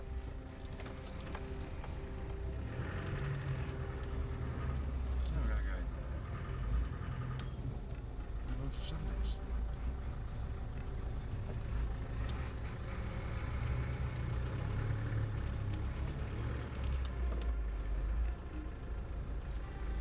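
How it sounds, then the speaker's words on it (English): A truck turning round at night on a road near the Afghan border en route to Quetta, its engine a steady low rumble throughout, fairly loud and continuous with faint clatter over it and no talk. "just a truck turning round"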